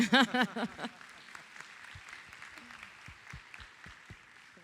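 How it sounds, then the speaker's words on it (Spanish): A voice speaks at the start, then scattered, fairly faint audience clapping follows at an agro-industry congress, thin and uneven with sparse individual claps. "ahora un aplauso para Felipe también."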